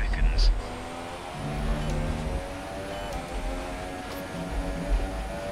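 In the F1 2017 video game, a Haas Formula 1 car's engine races at the Abu Dhabi Grand Prix. It wails and shifts pitch steadily as throttle comes on and off, with faint tire noise and voices over it.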